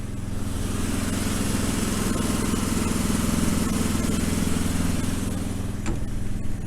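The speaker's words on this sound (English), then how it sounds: "so here we have the welder in here. We just have it idling to charge up the batteries" An engine-driven welder idles to charge batteries, a steady close low-pitched motor drone with an even mechanical throb that holds constant throughout, one brief click near the end, no talking.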